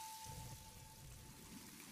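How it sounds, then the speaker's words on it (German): Steady rain in a video game, a dense even hiss of falling drops that holds at a constant level for under two seconds with no talking. "Wieso regnet es hier jetzt auf einmal?"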